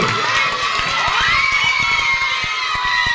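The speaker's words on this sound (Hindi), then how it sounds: "ताली जोरदार ताली।" Children at a Republic Day school program cheer and shout as a crowd, a continuous lively din with scattered claps and whoops throughout.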